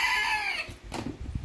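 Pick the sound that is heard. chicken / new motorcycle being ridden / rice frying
chicken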